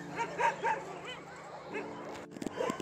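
Several dogs at an animal shelter bark and yip in short bursts, with some whimpering in the evening. A voice talks faintly underneath, and a sharp clatter comes near the end.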